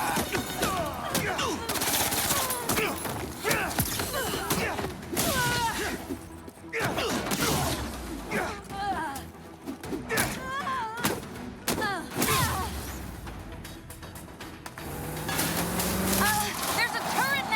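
Turret gunfire in Marvel's Spider-Man 2 comes as a dense, continuous clatter of shots and impacts, mixed with crashes and other action sounds, while voices shout over the noise.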